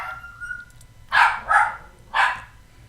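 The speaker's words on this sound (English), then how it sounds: "yeah, that's our dog" A dog barks three times in quick succession, fairly close and loud, in a live radio studio with a faint low hum underneath and no talking.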